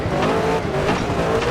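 Race car in the video game TOCA 3 spins out, engine roaring under a brief screech of skidding tires, loud and close for a short burst.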